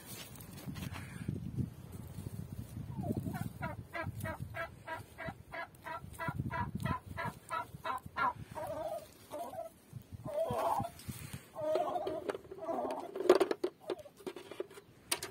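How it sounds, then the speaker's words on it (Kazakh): Turkeys gobble in rapid, burbling bursts, with clucks and scratching around them. The calls are fairly close, and no one speaks. "Бұнда да бір күрке тауық жатыр."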